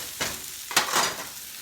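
Vegetables sauté in a hot cast iron pan, two quick bursts of sizzling as they are tossed and stirred, close and fairly loud with no talk.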